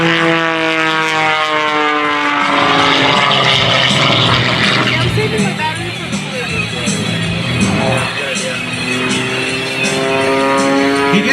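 A propeller aerobatic airplane performs a snap roll and tumbles at a Blue Angels Homecoming air show, its engine droning loudly and shifting pitch as it maneuvers, heard from the ground with crowd ambience.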